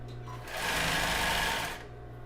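A sewing machine runs a single short burst, stitching elastic onto a pair of panties, its motor whirring up steadily, then slowing to a stop with a low hum underneath.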